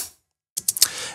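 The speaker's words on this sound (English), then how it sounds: "We make four hi-hats like here" Four programmed hi-hat hits in Reason 12, short crisp ticks with alternating soft and loud velocities, played in quick succession after a brief silence.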